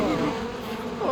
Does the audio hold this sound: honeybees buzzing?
yes